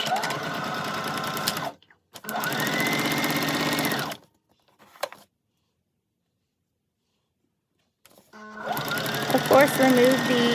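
A domestic sewing machine stitches a Christmas stocking in bursts, running steadily for a couple of seconds, pausing, running again, then a long silence before another run, the whirring motor loud and close.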